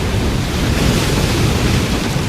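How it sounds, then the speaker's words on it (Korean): Strong wind roars over rough sea with crashing waves, a dense and continuous loud rush heard from aboard a ship in a storm, with no voices. "바람이 거세게 불기 시작하더니 거친 파도가 치기 시작했습니다"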